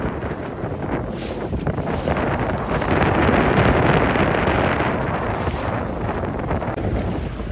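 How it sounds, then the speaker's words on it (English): Wind blowing hard across an open fishing boat on the water, a loud, steady roar and buffeting against the microphone that swells midway, with faint waves beneath and no voices. "The wind's starting to blow a little bit."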